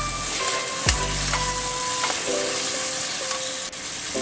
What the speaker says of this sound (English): Then add in light soya sauce. Stir fry a little bit.